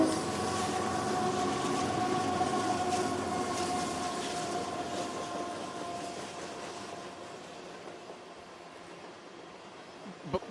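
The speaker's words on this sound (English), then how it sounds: "It's probably a 100-car train," A long CSX freight train rolls past during an outdoor event, a loud rumbling roar of wheels with a sustained horn-like tone that gradually fades into the distance.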